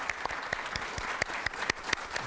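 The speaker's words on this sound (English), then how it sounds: "Let's applaud our great panelists and guests today." An audience at a sports journalism and social media panel applauds the panelists and guests, a steady dense clatter of many hands with sharp individual claps popping out, close and loud, with no talking.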